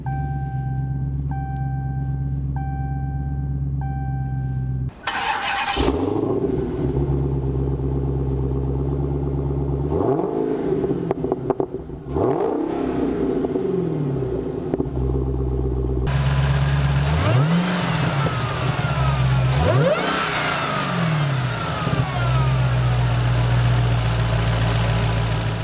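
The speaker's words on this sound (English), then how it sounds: "Even at idle, this car it sounds like it wants to go fast" A 2016 Dodge Challenger SRT Hellcat rumbles at a steady, loud idle, then breaks into several sharp revs that climb and fall back, with repeated throttle blips standing out over the deep, continuous engine drone.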